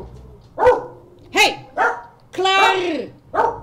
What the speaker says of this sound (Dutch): We krijgen er ook nog een blaffende hond bij.